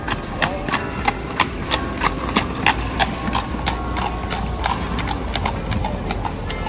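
Horse hooves clip-clop steadily on a street in Bruges, close and rhythmic, with a faint hum and voices in the background.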